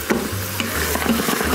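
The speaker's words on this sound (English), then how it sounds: "we'll let this saute for just a couple minutes until the meat is cooked through" Sausage and onions sautéing in an Instant Pot, with a steady sizzle and repeated stirring scrapes and knocks against the pot, close and moderately loud, with a low hum underneath.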